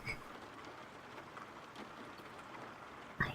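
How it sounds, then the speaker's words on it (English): Rain sound effect for an ASMR bedtime story, a soft steady hiss of falling rain with faint patter, quiet and even throughout, with no voice over it. "Or should I make the rain softer?"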